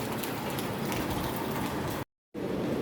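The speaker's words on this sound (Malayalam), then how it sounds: "മഴ പെയ്യുന്നുണ്ട് പുറത്ത്" Heavy rain pours steadily outside an open window, a dense, even hiss that carries on with no break except for one brief moment of total silence near the end.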